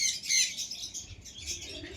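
Pigeons in a loft give a steady stream of close, shrill squawks and chirps over about two seconds, with a faint low rumble underneath.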